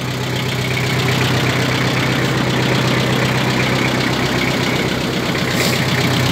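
A four-cylinder engine on a tractor with a front loader idles close up, a loud, steady rumbling drone with a fine rapid knock running throughout.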